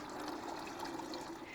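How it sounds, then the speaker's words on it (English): Excess water poured off a seedling tray into a watering can, a steady liquid trickle and splash running continuously at close range with no one talking. "So I like to pour it off into a watering can or a pitcher so I can save it and use it for another"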